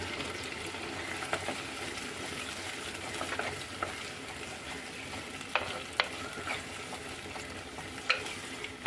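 Onions and tomatoes sautéing in a pan for Palakkad-style mutta puli egg curry, a quiet continuous sizzle punctuated by spoon scrapes and taps against the pan, close and unaccompanied by talk.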